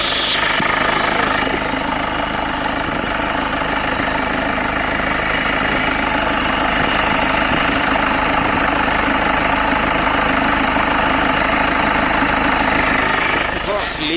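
A Volkswagen Vento TDI diesel engine with a coolant and engine-oil leak idles in a workshop, a steady loud clattering knock that holds without change throughout.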